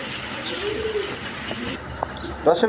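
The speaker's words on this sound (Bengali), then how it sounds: "এখানে একটা আফসানিগিরি নর কবুতর আছে" Pigeons coo at a busy wholesale pigeon market, with soft repeated calls and a few chirps over a steady crowd murmur and people talking nearby.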